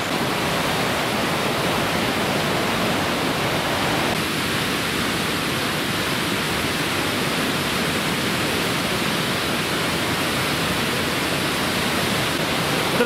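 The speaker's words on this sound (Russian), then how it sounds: "Дорогие друзья, мы возле водопада «Пасть дракона»." The Dragon's Mouth waterfall near Sochi roars steadily, a dense, loud and constant rush of falling water with no pauses or voices.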